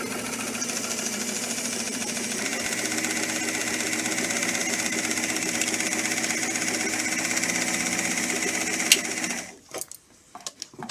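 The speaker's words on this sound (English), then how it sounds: "So now we're ready to sew our casing." Close, steady whir of a sewing machine stitching the casing of a simple girl's dress, running continuously and fairly loud for about nine seconds before stopping with a click and a few faint rustles.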